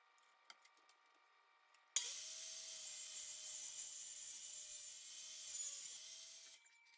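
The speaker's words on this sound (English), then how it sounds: "Here's ripping the top back corner off at the angle of the ceiling." A saw rips the top back corner off a piece of wood trim at the angle of the ceiling, kicking in sharply after a few light taps and holding a loud, steady cut for about four seconds.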